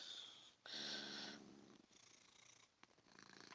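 A cat purring close by, a soft steady rumble with short louder bursts and brief pauses between breaths; no one speaks.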